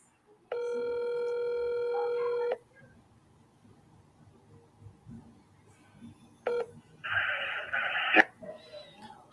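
An unanswered phone call to a coach: one long ringback tone lasting about two seconds, then a short tonal blip, then a burst of electronic beeping and static, with quiet murmuring in the pauses.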